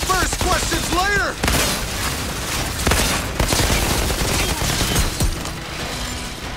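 Outriders gunfire, loud and rapid, with repeated bursts of shots over a busy combat din; a short voice-like chirp comes before the shooting starts.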